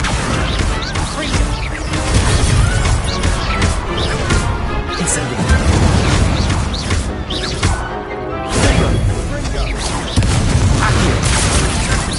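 Incendio fire spell in Hogwarts Legacy erupts in repeated loud, dense crashing blasts and whooshes through a duel, layered over constant combat noise with only brief dips between bursts.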